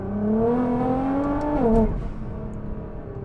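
A Nissan GT-R accelerates hard, its engine note climbing steadily in pitch before a quick drop at a gear change, then settling into a lower hum, loud and close with no talking.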